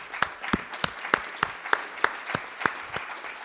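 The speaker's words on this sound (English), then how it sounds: "give him a little round of applause" A small audience at an energy conference gives a brief round of applause: sparse, sharp claps landing roughly three per second, fairly close and moderately quiet.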